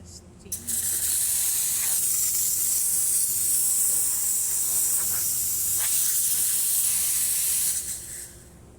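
An ECM Giotto espresso machine's steam wand lets out a loud, continuous close-up hiss after a couple of short opening spurts, holding steady for several seconds before tapering off.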